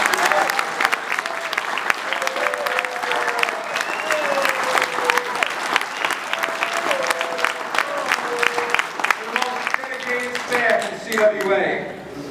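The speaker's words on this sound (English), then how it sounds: "Please give them a round of applause." Audience applause at a union convention speech, sustained loud clapping from a crowd with voices and cheers threaded through, swelling near the end.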